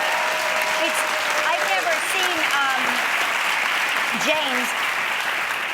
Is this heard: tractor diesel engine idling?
no